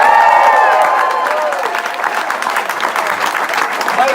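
Loud crowd applause and cheering at an election night victory celebration for a county executive race, a dense clapping roar that swells and then thins slightly, with voices mixed in.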